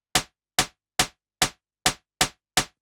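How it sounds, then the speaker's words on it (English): Seven evenly spaced clap-like hits from a Yamaha TX81Z FM synthesizer, each a sharp broadband crack with a quick decay, repeating steadily about twice per second in isolation. "To create a clap-like sound"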